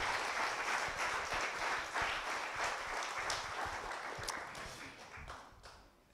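Steady, fairly faint audience applause at a lecture on French horsemanship, a dense wash of clapping that gradually thins and fades over several seconds.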